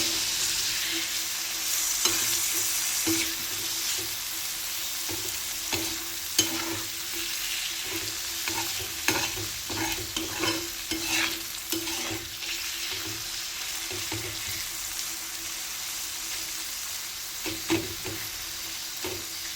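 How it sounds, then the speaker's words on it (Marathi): Tomatoes sautéing for kaju chicken masala sizzle steadily in a pan while a spoon stirs them, with scattered scrapes and clinks against the metal over a constant frying hiss. "आता हे चांगलं मस्तपैकी परतू द्यायचं आहे."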